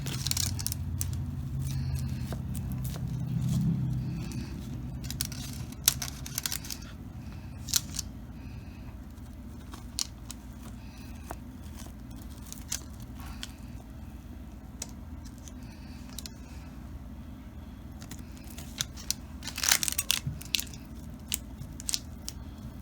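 A knife slices through a cooled tray of fudgy chocolate brownies, giving soft squishing cuts and occasional sharper clicks of the blade against the tray, close and fairly quiet, with no talking.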